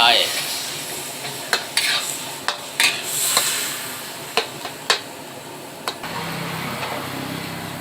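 Loud sizzling from a hot wok over high heat as pork and basil stir-fry is tossed, punctuated by repeated metallic scrapes and clanks of a spatula, then the sizzle settles.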